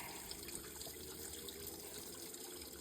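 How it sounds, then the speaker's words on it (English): A small creek runs past a campsite on a hot August hiking trip, its steady, soft rush and trickle holding level throughout with no talk over it. "Right here at this nice little creek that runs down by my campsite."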